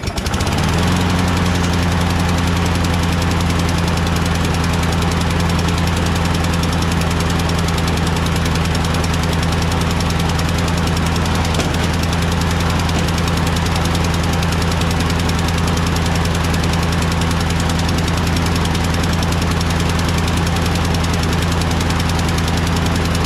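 An old Craftsman 22-inch lawnmower with a Briggs 6.25 Quantum engine needing repair runs continuously, a loud, steady, close rumbling putter that stays on the choke, with no talk over it.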